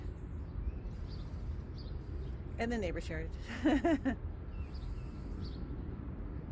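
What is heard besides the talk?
birds chirping in a backyard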